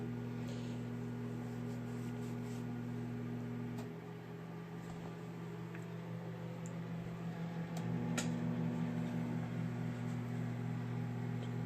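Constant low electrical hum with a steady drone that shifts slightly in pitch partway through, like an appliance running nearby.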